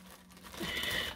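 A short, close crinkling of a plastic bag, a soft rustle swelling into brighter crackles for about a second.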